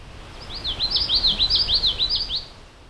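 Common yellowthroat warbler singing in a wet, swampy marsh, a single clear run of repeated rolling phrases close by, standing out over quiet background hiss.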